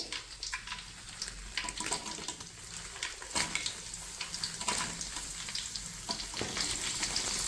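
Deseeded dried chillies fry in hot oil in a pan for nattu kozhi uppu kari, a country chicken dish. They make a continuous crackling sizzle with occasional stirring scrapes, close up and without talk.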